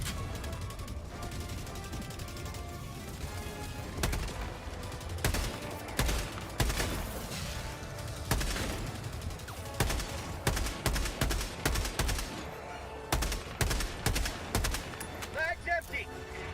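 Machine-gun fire in a video game sounds in repeated sharp bursts and single loud cracks over a busy game soundscape, close and punchy, with a voice talking between the shots.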